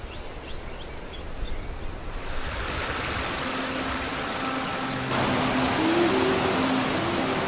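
The Debed River in northern Armenia flows steadily beside farmland, a broad continuous wash of rushing water that grows slightly louder partway through, with faint bird calls early on.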